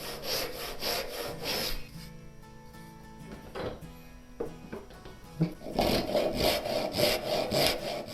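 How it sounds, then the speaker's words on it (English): Japanese Ryoba hand saw resawing a wooden board by hand, with repeated rasping push-pull strokes close up, a pause of quieter handling in the middle, then the steady sawing rhythm resuming louder. "I'm going to use a Japanese Ryoba saw to do this resawing"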